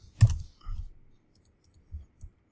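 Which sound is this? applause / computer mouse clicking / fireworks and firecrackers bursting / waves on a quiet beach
computer mouse clicking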